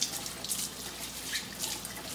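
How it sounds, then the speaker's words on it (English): Kale leaves are washed under a running tap, a steady close splash of water with soft bursts as the leaves pass through the stream. "I want to make sure I get all the aphids off, so I'm just going to go through and wash every leaf."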